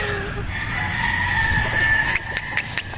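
A bulik-colored gamecock crows close by, one long drawn-out call, followed by a few sharp clucks and clatters at the end.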